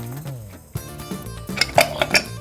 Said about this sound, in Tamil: நல்லா இப்படி கரண்டியிலே குழச்சி விட்டுக்கணும்